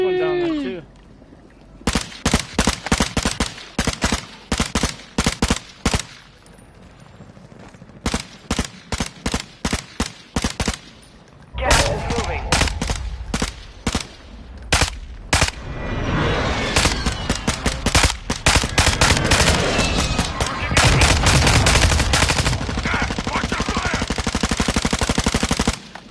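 Loud, rapid bursts of automatic gunfire in a Warzone Resurgence match, repeated volleys separated by short gaps and growing denser toward the end, with players talking over the shooting.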